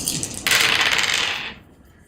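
A fistful of dice clatters and rolls across a table during a tabletop roleplaying game, a sharp, close rattle lasting about a second before settling into quiet.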